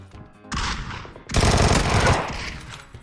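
Rapid automatic gunfire in a shooting video game, loud and close, in two sustained bursts with a short gap between them.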